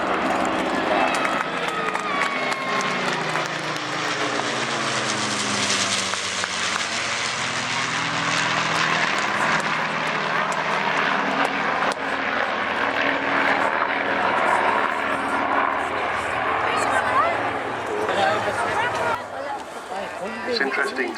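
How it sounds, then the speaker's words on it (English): Propeller aircraft of the Royal Air Force Battle of Britain Memorial Flight, including a Lancaster, fly over at an airshow with a loud, sustained piston-engine drone that swells and shifts as they pass, with crowd noise mixed in. "So here they are, the Royal Air Force Battle of Britain Memorial Flight."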